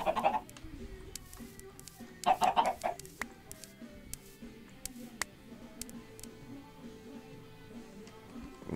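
Chickens in the Minecraft Tekkit modpack give scattered clucks, with a couple of louder bursts standing out over a steady low game background and occasional sharp clicks.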